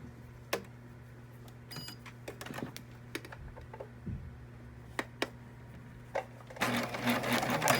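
A sewing machine stitches a fabric face mask, short bursts of needle clatter with a brief back stitch, separated by clicks and pauses, with a steady low hum underneath and a longer, louder run of stitching at the end.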